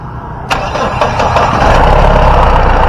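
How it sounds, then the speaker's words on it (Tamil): A Mahindra Bolero SUV diesel engine cranks and fires up after a brief pause, then settles into a loud, steady idle close by. "வண்டியோட இன்ஜின் சவுண்ட் எப்படி இருக்குது அப்படின்றத கேட்போம்"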